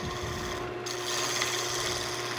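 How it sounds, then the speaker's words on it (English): Continuous rough scraping rasp of a gouge cutting spinning wood on a lathe, close and steady throughout. "Come in and just rough it out with the gouge."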